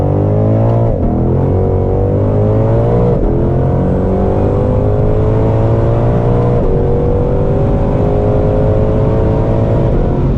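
Ford Mustang Shelby GT500 accelerating hard on a speed run, loud engine roar climbing through several gear changes with rising harmonic pitch, heard from inside the car.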